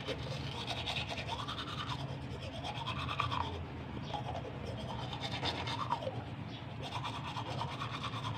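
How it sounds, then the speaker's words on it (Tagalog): Someone brushes their teeth up close in a dim boarding house, producing a continuous rhythmic scrubbing that repeats in strokes for several seconds. "toothbrush muna tayo"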